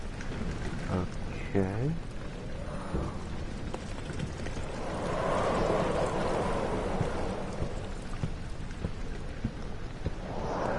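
Rain ambience in the Amnesia: The Dark Descent video game level Rainy Hall, a steady wash of rainfall that swells in the middle, with a brief spoken word and a few tonal game sounds early on.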